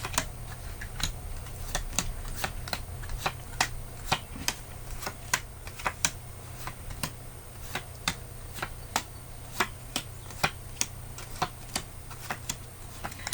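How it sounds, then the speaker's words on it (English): Tarot cards are dealt one by one into seven piles of three: quiet, crisp taps land in a fairly regular rhythm close by, with no voices. "So there's 7 piles that I do, and each pile gets 3 cards."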